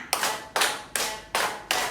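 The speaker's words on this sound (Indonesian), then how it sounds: "Tepuk 1, tepuk 1, tepuk 3, tepuk 3, tepuk 5" A group of women clapping hands in a rhythmic counting pattern, five sharp separated claps in even succession, close and fairly loud with no talk.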